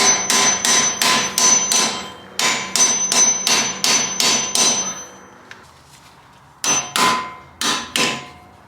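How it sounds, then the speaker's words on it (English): A hammer knocking strut bolts out on a Ford Mustang GT350 during a lowering spring install, loud sharp metallic blows in quick bursts of five or six, pausing between groups, struck close by. "just don't be afraid to hit it with the hammer"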